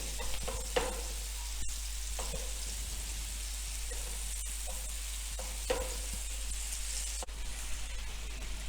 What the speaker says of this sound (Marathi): असे दोन्ही बाजूनी छान शॅलो फ्राय करून घ्यायचे